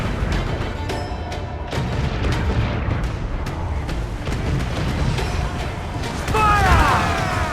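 Cannon fire from a pirate ship in the video game Assassin's Creed Black Flag, a run of heavy booming shots over a constant rumbling din, with shouted voices near the end.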